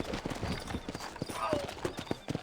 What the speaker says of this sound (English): You ain't gonna find sturdier horses than these in all of New Ulster.